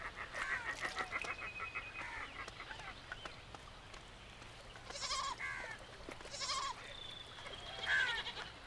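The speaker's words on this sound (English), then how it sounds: "Other animals, such as feral goats, also come here to drink." Feral goats bleat at a flooded river, several short wavering calls spread through the clip at moderate distance, with bird calls and other wildlife sounds mixed in.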